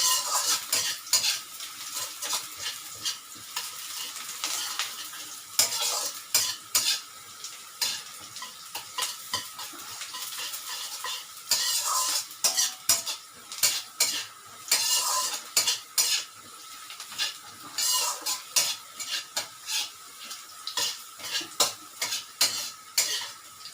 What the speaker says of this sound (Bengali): দেখো, রসুনটা ভাজা ভাজা হয়ে গেছে, পোড়াবে না, কিন্তু ব্রাউন করে ভেজে নেবে।